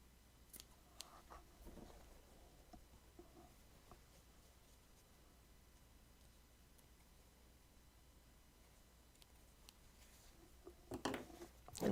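Scissors snip through fabric while notching a corner for household stitching, a few faint, quiet cuts early on and a sharper cluster of snips at the very end, with no one talking.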